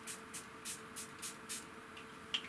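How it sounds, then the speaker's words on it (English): Short repeated bursts of a spray bottle misting water onto gouache paints, about six quick hissing puffs in a steady rhythm, close and fairly quiet with no talk. "I need to spray that a bit more."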